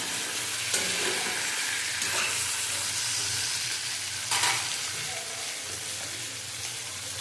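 Bitter gourd slices sizzle steadily in oil in a pan, a continuous close frying hiss with a few brief stirring scrapes, no voices.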